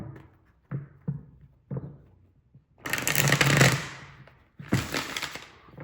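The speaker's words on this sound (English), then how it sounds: "I'm gonna do quick little shuffle." Tarot cards being bridge-shuffled, close and loud: a few soft taps and cuts, then two long riffling bursts of flicking cards cascading together, each ending in a settle.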